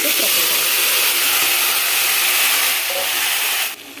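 Oil heats in a kadai, giving a steady, loud, close hiss that fills the whole stretch and eases slightly near the end.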